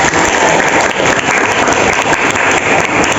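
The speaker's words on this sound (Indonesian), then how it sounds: "tepuk tangan dong, Mbak" A classroom of students bursts into loud, dense applause, continuous rapid clapping filling the room without pause.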